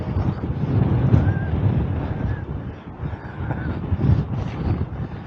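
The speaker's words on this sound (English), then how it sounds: "Did I tell you it was windy?" Strong wind buffets the microphone on a hiking trail up a mountain face in Fujairah, a continuous loud rumbling roar with gusts that swell and ease, while faint voices are heard briefly beneath it.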